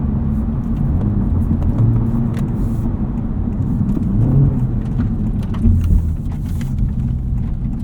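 A 2023 Honda Civic Type R with its front resonator deleted rumbles steadily as it drives along neighborhood streets, with a deep, throaty exhaust note that swells slightly now and then. No talking.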